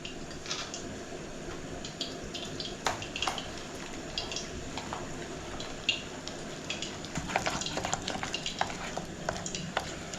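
Fasting-day fritter batter of sabudana with salt, coriander and green chilli being stirred in a bowl: a steady wet, squelching scrape with soft clinks, close and fairly quiet, with no talking.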